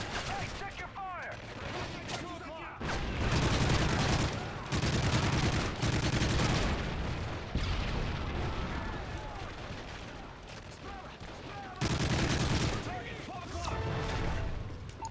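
Gunfire in the video game Modern Warfare 3 Survival, dense bursts of automatic shots and explosions in loud waves with short lulls, voices talking over the battle.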